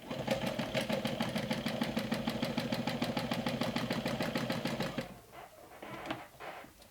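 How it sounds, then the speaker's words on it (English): A sewing machine runs steadily for about five seconds, fast and evenly, stitching the side seam of a small backpack with an eighth-inch seam allowance. It stops abruptly, and a few soft handling sounds follow. "So I'm stitching on the side with 1/8 of an inch seam allowance."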